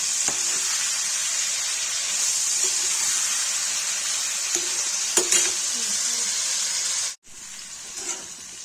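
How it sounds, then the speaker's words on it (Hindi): Salted goat or chicken liver pieces frying in a pan give a loud, continuous hissing sizzle, with a few utensil knocks and a brief sudden dropout before the crackle resumes. "नमक डाल के फ्राई हो जाएगा, तो इसको निकाल के कलेजी बनाएंगे।"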